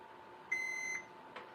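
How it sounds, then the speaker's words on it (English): A multimeter set to continuity check emits a single steady electronic beep lasting about half a second while testing a thermal fuse on a workbench, clear and close in a quiet room. "Still have the meter on continuity check."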